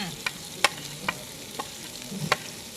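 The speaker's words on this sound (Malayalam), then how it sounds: "കൊച്ചുള്ളിയൊക്കെ ഒന്ന് മൂപ്പിച്ചെടുക്കാം." Shallots frying with green chili and ginger garlic paste, a quiet sizzle under five crisp, evenly spaced stirring scrapes from a utensil against the pan.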